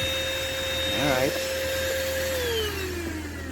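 Steady whine of a car vacuum cleaner running inside a Toyota Succeed, a constant motor tone with a brief wavering pitch midway, then easing slightly lower near the end.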